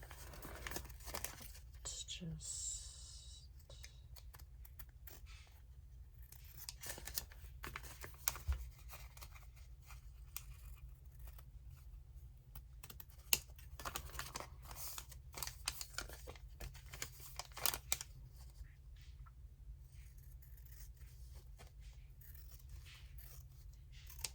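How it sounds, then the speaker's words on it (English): Quiet, irregular snips and crisp rustles from fabric scissors cutting vellum paper, close up, with soft low hum and occasional faint handling sounds. "Get my material cutting scissors here"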